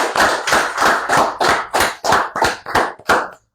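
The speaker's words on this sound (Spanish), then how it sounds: "Demos un fuerte aplauso a Dios por su palabra" A church congregation claps together in time, about ten crisp, evenly spaced claps landing roughly three per second, loud and close, then stopping abruptly.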